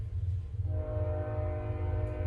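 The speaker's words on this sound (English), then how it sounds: "That train would do that as soon as I fucking get off" A train passing at night, a loud low rumble throughout with a sustained horn blast joining partway and holding to the end, with no voices.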